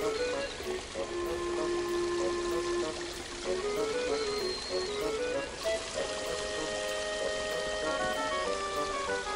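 Cold autumn rain falling steadily over a pond at dusk, a constant close wash of drops beneath faint tonal background sound.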